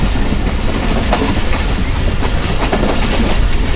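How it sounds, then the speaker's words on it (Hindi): The Pakistan Express passes through Chaklala railway station on a rainy early morning. A loud, steady rumble of rolling wheels carries a fast clickety-clack rhythm, close and continuous, with no voices. "Pakistan express Chaklala railway station को स्किप करने लगी है।"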